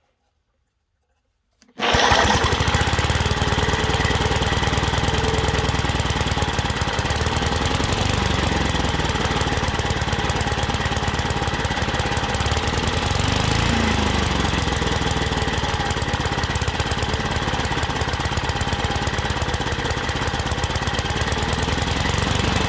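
A 1950s Wards lawn mower engine, run without its fan shroud, starts abruptly and runs loud and steady with a harsh, rapid chattering drone throughout.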